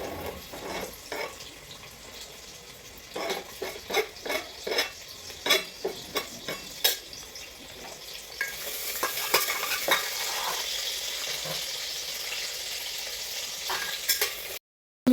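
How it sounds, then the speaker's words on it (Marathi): Onion drops into hot oil with mustard seeds, starting with repeated rhythmic stirring scrapes and clanks, then settling into a louder continuous sizzle, with no talking. "मी तेलात कांदा टाकते"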